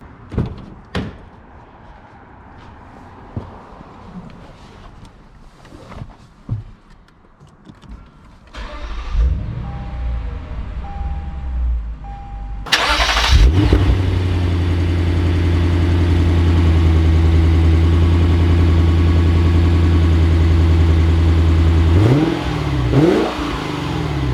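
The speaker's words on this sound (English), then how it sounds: "let's take this RC Track Edition out to see how it drives" A 2020 Lexus RC F Track Edition: quiet cabin rustle and a solid door thunk, then the engine cranks and fires into a loud, steady idle with a brief rev near the end, heard from close by.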